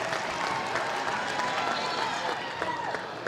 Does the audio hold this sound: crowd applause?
yes